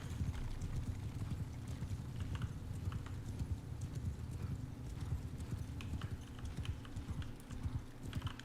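Cavalry horses of horse archers in a medieval battle game gallop in a dense, steady clatter of hooves, loud and continuous, with faint keyboard clicks over it.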